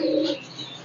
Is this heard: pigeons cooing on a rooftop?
yes